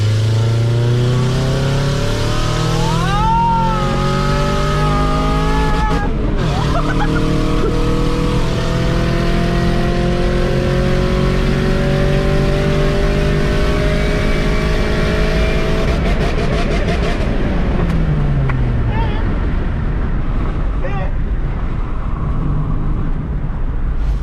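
A supercharged Chevy Cobalt SS engine revs hard nearby, its pitch climbing and falling through several rising sweeps with a supercharger whine, loud and continuous throughout.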